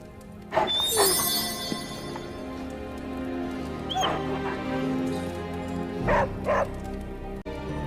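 A dog in the video game Marvel Midnight Suns gives several sharp barks and yips in short bursts, fairly close, over a low game ambience with no talking.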